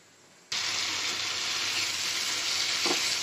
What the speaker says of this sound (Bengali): আমার মশলাটা কষানো হয়ে গেছে